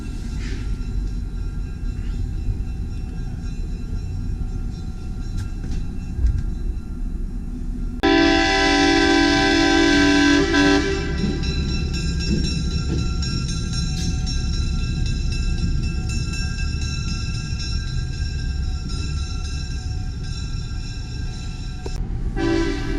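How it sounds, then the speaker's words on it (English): An old boiler train, likely steam-era rolling stock, gives a steady rumbling rail drone throughout, with a loud, bright horn-like blast of a few seconds partway through and a brief return of it near the end. "So this is an old boiler train."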